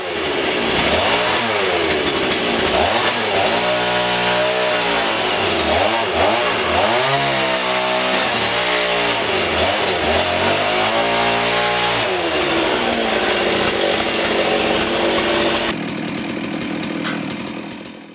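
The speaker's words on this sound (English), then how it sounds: "I cut a groove in the log so the threaded mountain bar can pass through it." A chainsaw cuts a groove along a log for a solid picnic bench, its loud engine repeatedly revving up and bogging down in rhythmic surges as the bar bites, then settling to a steadier drone.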